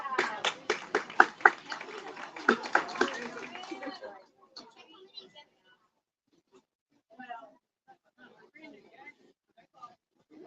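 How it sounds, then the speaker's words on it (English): A small crowd claps at a women's bass fishing tour weigh-in on Guntersville Lake: a few seconds of uneven, fairly close applause that breaks off into near silence and faint speech. "Give Miss Ann a round of applause."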